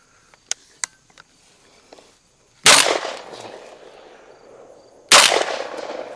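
Two loud, close shots from a Tri Star .410 pump shotgun fired outdoors during a bird hunt, each a sharp blast with a long decaying echo, about two and a half seconds apart, after a few faint clicks of the action.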